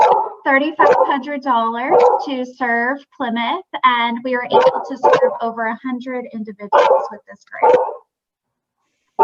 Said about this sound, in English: oh, I'm so sorry, that's my dog